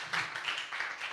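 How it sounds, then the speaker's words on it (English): A conference audience at MetaFest Croatia 2023 applauds speaker Phil, a short burst of steady, fairly soft clapping from many hands at a distance. "So please applause to Phil."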